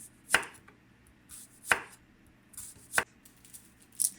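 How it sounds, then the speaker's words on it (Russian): A knife slices a medium onion into rings on a board in four crisp, evenly spaced cuts, close and fairly quiet. "Почистила одну среднюю луковицу и режу кольцами."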